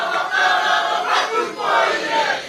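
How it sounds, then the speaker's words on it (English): Māori waiata sung by a crowd at Dame Tariana Turia's tangihanga in Whanganui, a swelling chorus of many voices carrying steadily, rising and falling in sustained waves. "The sound of Waiata is filling Whanganui, where Dame Tariana Turia's tangihanga is taking place"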